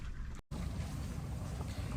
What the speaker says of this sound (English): it's a very loud because it's very windy